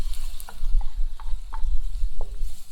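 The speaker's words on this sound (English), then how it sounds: "I'm gonna let the onions sweat while I chop my apples" Onions sweating in melted butter in a pan, a loud low sizzle with a few light clicks and taps scattered through it, close and continuous with no talking.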